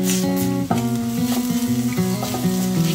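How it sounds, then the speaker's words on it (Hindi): Gram flour (besan) roasting in oil in a pan, a steady soft sizzle with occasional stirring, largely covered by louder background music. "अभी इसमें हम डालेंगे बेसन, और बेसन को ना अच्छे से रोस्ट कर लेंगे बीच में ही"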